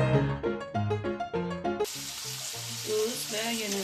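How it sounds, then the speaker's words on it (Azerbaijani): Sliced chicken breast frying in a pan, a faint crackling sizzle that comes in clearly partway through after a stretch of other kitchen sound, heard alone without talk. "Doğradığımız döşətlərini tavada qızardırıq."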